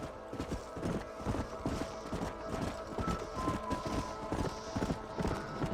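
Horses' hooves clip-clop in a steady, close, continuous rhythm in the Red Dead Redemption video game, with a faint whinny and occasional voices in the background.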